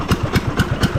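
A homemade fishing net puller's small engine idles close by with a steady, rapid thumping beat, loud and alone without talk.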